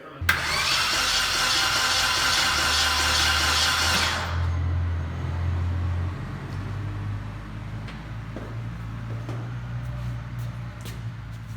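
Toyota Matrix engine cranking over on the starter with no compression, a loud steady whirring for about four seconds, then stopping and leaving a low hum with faint clicks and handling noises.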